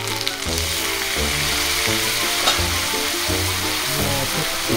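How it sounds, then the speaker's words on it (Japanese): Teriyaki chicken in sauce sizzling and steam-cooking in a pan over an alcohol burner at a campsite, a loud continuous close-up fry with a low steady hum beneath and no talk. "焼いたからタレを入れて、ちょっと蒸し焼きにしよう。"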